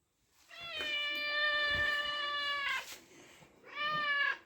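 A hungry cat meows loudly and close by: one long drawn-out meow followed by a shorter second meow, heard alone in a quiet room.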